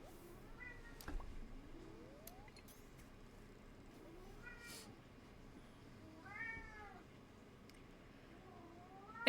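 Cat meows in the Stardew Valley video game, several faint rising-and-falling calls spread across a quiet farm scene with small clicks in between, ending on a sudden louder burst.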